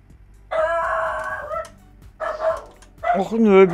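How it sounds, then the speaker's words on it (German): A dog in the video game Gold Rush: The Game barks in three short bursts separated by brief pauses, fairly close and loud, with a game-like tonal quality. "Mein Hund bellt."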